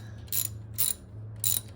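A ratchet wrench working on a spark plug of a Nissan Z31 engine, three short bursts of bright clicking separated by pauses, close up, over a low steady hum, with no voices.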